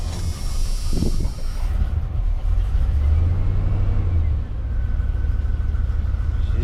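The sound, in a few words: old truck engine starting and running after 20 years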